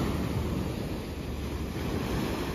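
Sea waves rolling onto the Odesa seashore with steady wind buffeting the microphone, a loud, continuous broadband rush with no talking.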